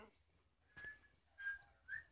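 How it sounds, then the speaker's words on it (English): A faint, thin whistled tune of a few short tones, with a pause between phrases, over quiet background sound and brief voices. "Who's whistling?"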